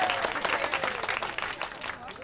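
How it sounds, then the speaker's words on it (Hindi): A crowd claps in dense, steady applause for a moment in a Hindi-dubbed film scene, moderately loud with a voice briefly heard over it. "तालियां।"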